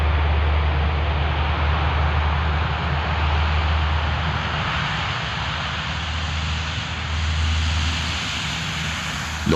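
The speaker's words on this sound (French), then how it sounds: "Lorsque l'Hercule décolle, les hélices en rotation génèrent une zone de haute pression" A Hercules four-propeller transport aircraft taking off, its engines giving a steady, loud, broadband roar with a deep low drone that holds evenly throughout.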